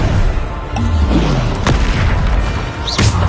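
Booming spell blasts ring out in combat in the video game Hogwarts Legacy, loud and close, with deep rumbling impacts and sharp bursts layered over continuous battle noise.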